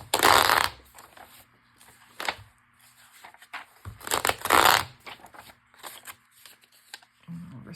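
Pages of a book ripped by hand, several sharp, loud tearing bursts separated by quieter pauses with small rustles between them.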